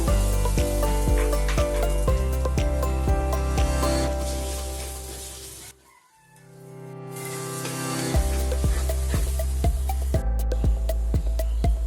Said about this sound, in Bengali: এখন দুইটা ডিম খিচুড়ির সাথে মিক্স করব